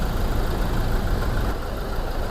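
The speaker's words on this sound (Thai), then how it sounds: "ตอนนี้ผมสตาร์ทเครื่องนะครับ" A Toyota Revo 2.4 Prerunner pickup truck engine idles steadily and closely, a continuous low rumble with no talking over it.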